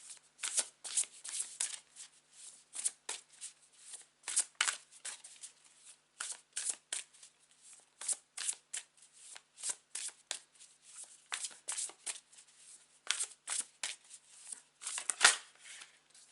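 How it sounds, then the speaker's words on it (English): A tarot card deck is shuffled close up again and again, giving a stream of quiet riffling and flicking bursts with short gaps between them. "Let me cut my deck."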